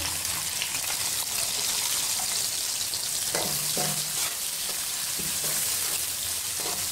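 Sliced onion fries in hot oil for a dahi aloo masala biryani, a steady, dense sizzle with a few faint stirring knocks, close up and with no one talking.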